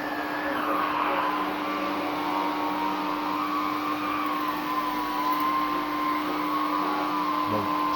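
A Tristar vacuum cleaner with a power nozzle runs steadily with a constant whining hum and airy rush, close and unchanging throughout, with no voices over it.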